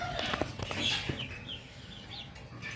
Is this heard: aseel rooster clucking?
yes